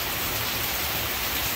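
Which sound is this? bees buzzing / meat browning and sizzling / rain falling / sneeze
rain falling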